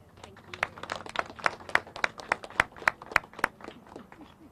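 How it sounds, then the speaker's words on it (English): A small crowd claps in a quick, fairly even rhythm at a Richmond city press event with the mayor, the claps close and distinct rather than a dense roar. "Folks, give them a round of applause one more time, a big round of applause."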